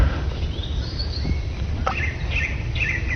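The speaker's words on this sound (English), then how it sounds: "The other birds." Birds chirping outdoors, with a few short, bright calls and trills standing out over a steady low rumble of background noise. The calls are moderately distant and there is no talking.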